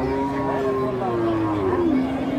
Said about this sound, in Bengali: খুবই সুন্দর একটা গরু দর্শক।